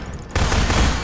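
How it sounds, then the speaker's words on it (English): Gunfire in Half-Life 2 erupts abruptly after a quiet third of a second into a loud, dense fusillade of rapid overlapping shots that continues to the end, with no talk over it. "Who's shooting at me now?"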